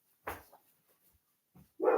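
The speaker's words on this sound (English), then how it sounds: "No barking." Lola the dog barks close by in short, loud bursts: one at the start, a quieter yelp in the middle and another strong bark at the end, with no talking.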